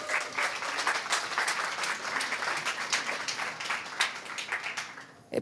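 Sustained audience applause at a journalism awards ceremony, a dense steady wash of many hands clapping that holds evenly, then tapers slightly near the end.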